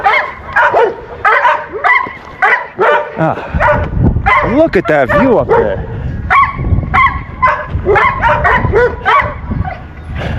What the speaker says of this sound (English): I'm trying to ignore the barking